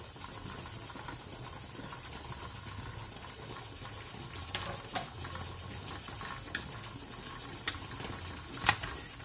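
Chopped green peppers are stirred into a large pot of bulk chili, a soft continuous scraping and churning with a few faint clicks and taps of the spoon against the pot.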